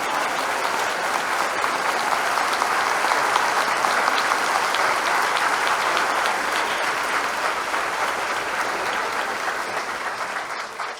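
A church congregation applauds together at a Bible study service, steady dense clapping filling the room for about eleven seconds and easing slightly toward the end.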